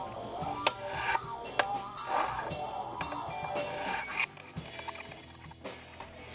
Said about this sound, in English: File generally only works in one direction, so you want to put the heave hoe on your forward motion.